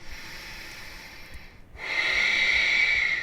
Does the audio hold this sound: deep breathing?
yes